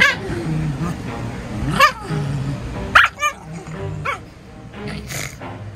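A dog lets out a few loud, short barks and yips near the microphone, spaced irregularly across a few seconds, with people talking around them.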